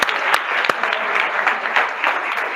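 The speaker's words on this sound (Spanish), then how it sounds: "Un aplauso aquí para Julián, claro que sí" A small indoor group claps for a colleague in a training session, a close, moderately loud patter of hands with a few sharper individual claps, running steadily for a couple of seconds.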